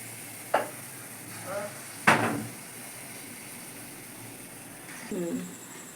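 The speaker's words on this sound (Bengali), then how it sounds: "সব বড়াগুলো এবার ভেজে নেব।" Taro bora fritters fry in a pan with a soft steady sizzle, broken by a few clanks and stirring scrapes of a utensil, fairly quiet and close.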